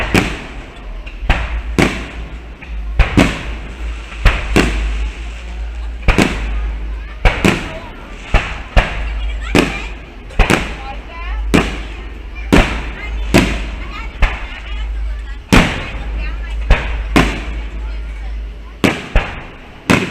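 Fireworks bursting at night over an amusement park, a long series of sharp booms spaced a second or so apart, loud and echoing, with a constant low rumble and people talking in between.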